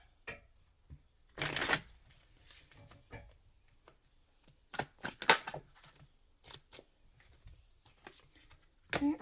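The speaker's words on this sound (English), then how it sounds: "I'm going to shuffle this around for a minute" Cards being shuffled in several quick riffling bursts, close up, with short pauses and soft handling sounds between them.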